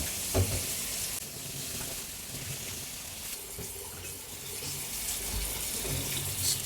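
Sauce poured onto squid sizzling on a hot plate gives a steady, bright hiss with watery splashing and bubbling, fairly close and continuous throughout, with no one talking.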